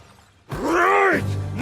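Anime-style sound effect of skeletons being smashed: a sudden loud shattering crunch with a groaning, ringing tail, followed by a second, weaker hit at the end.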